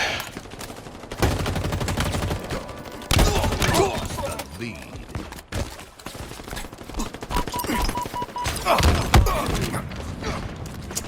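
Grenade explosions and heavy gunfire in a Halo Infinite multiplayer match, loud dense bursts and blasts in rapid succession, with a voice talking now and then over the din.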